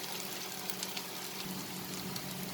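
Garlic and cumin seeds sauteing in oil while cooking aloo palak, a spinach and potato dish, give a soft, steady sizzle that holds evenly throughout with no voices.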